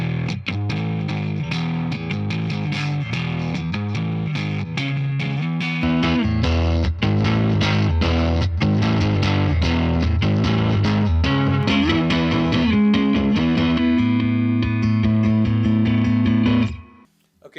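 A distorted electric guitar plays chords and riffs through a Mesa/Boogie amp, thick and crunchy with a bit of reverb, ending on a sustained chord that cuts off.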